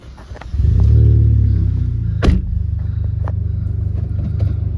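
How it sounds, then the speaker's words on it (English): A Nissan car fitted with Recaro Nismo RS bucket seats and a six-speed gearbox starts up close by: a brief starter whir, then the engine catches into a loud rumbling rev that settles into a steady, throbbing idle. "Just start the car up."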